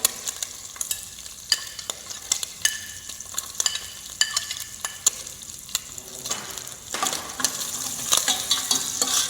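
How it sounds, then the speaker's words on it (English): Garlic and bacon sauté for a tomato sauce as a metal utensil stirs them continuously, sending sharp clinks and scrapes against the pan over a steady sizzle that grows louder toward the end, with no talk. "A continuous stir is important, otherwise the bacon will stick at the bottom."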